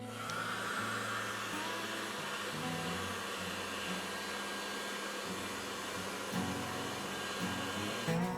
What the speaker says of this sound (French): Et hop, un petit cours vite fait de décapeur thermique.